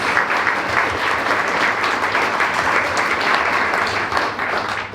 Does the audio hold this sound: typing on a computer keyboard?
no